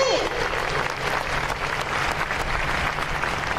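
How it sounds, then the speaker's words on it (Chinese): Audience applause at a ship handover and naming ceremony, a broad burst of clapping from the gathered guests that stays steady and fairly loud across the moment, with a brief voice at the very start. "各位贵宾给予所有辛劳的工作人员最大的掌声与鼓励"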